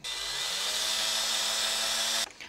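A power drill drives into a wall stud inside a door frame, a loud continuous high whine that rises slightly in pitch as it bites, then stops sharply near the end.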